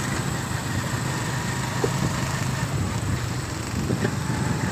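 A newly bought 2024 motorcycle engine idles steadily for several seconds, a continuous low rumble with faint background noise and no clear voices on top.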